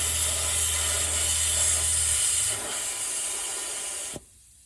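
Compressed air hisses steadily from a fitting as a wrench tightens it, a loud continuous hiss with a low hum underneath that stops abruptly near the end, leaving near silence.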